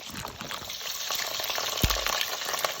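French fries of the Mr. Chips brand crackle and hiss as they drop into hot oil, a steady bubbling fry with a brief low thump partway through, close and fairly loud.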